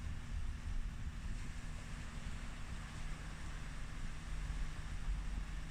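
Ocean waves wash onto a beach in a soft, continuous low surge with gentle wind noise, faint and steady with no distinct breaks between swells.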